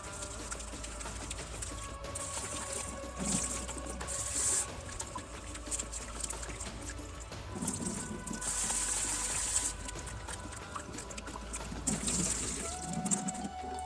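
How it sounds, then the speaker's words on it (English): Organic rice being washed in water, a faint steady trickle of running water with soft splashing and swishing bursts as the grains are rubbed and rinsed, close by and continuous. "Make sure you wash your rice very well."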